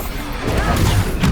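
Expulso explosion spell in Hogwarts Legacy, a short loud crash and burst of rumbling debris close up, with a second smaller impact right after.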